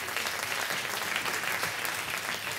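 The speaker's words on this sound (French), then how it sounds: "on peut l'applaudir encore une fois au violon" A live concert audience applauds a violinist at an evening performance, steady dense clapping filling the whole moment at a moderate, even level.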